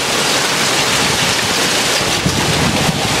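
A summer hailstorm pours down in a broad, unbroken hiss of pellets hitting surfaces nearby, loud and steady throughout with a few faint knocks, no talking.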